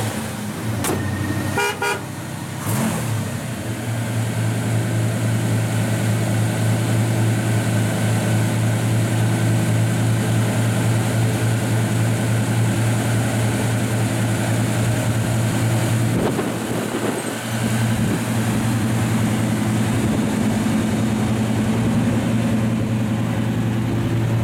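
A 1966 Chevrolet Chevelle SS 396 with a 4-speed idles through dual exhausts in the stock location, a loud, steady, deep rumble that holds evenly throughout with no talk over it.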